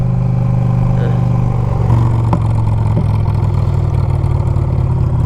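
A Honda Fury motorcycle accelerates hard from a standstill toward highway speed, its engine a steady, loud low drone with a rising pitch and continuous wind and road rush close by.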